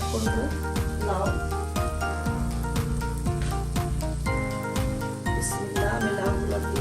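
Chopped bottle gourd goes into a pan of frying shrimp, giving a steady sizzle that sits beneath background music and a speaking voice throughout.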